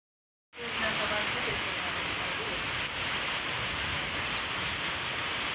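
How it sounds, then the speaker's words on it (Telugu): Steady rain falls on a village in Telangana during Bathukamma festivities, a dense continuous patter on surfaces beginning abruptly and holding even, with occasional louder drops. "ఫుల్ వర్షం పడతాను ఫ్రెండ్స్"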